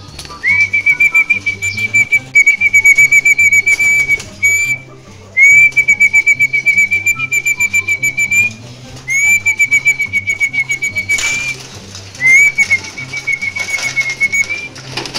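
A person whistles repeatedly to call young pigeons during a flight-training session, sharp, sustained whistle notes recurring in bursts over steady rhythmic background music, loud and close, with no talk.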